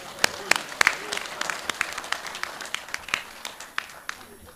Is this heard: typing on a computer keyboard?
no